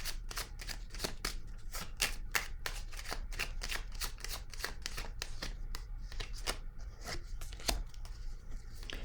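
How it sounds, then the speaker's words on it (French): Tarot cards are shuffled and slid across a table in a steady run of close, crisp flicks and taps, with no voices over the sound. "Je vais déposer une autre carte ici."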